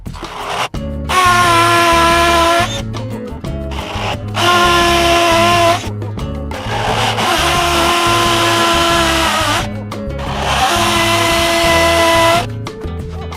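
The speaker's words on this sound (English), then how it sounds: "drill some holes" A power drill whirs loudly in several long bursts, pausing briefly between them as it bores holes into a hard outdoor wall.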